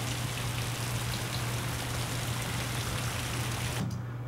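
Steady rain hiss within a storm sound-design mix, dense and even at moderate loudness with a low hum underneath, cutting off abruptly near the end.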